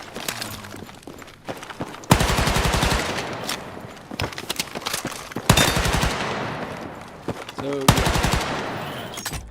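Bursts of rapid automatic gunfire in Battlefield 6, loud and close, firing in several sustained strings separated by short pauses, with scattered single shots and clatter in between.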